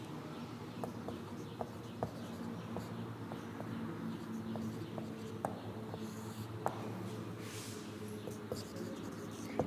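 Pen scratching out notes on paper or a board during a lesson on a hydro project, with short strokes and taps at a steady pace over faint room hum, no talk.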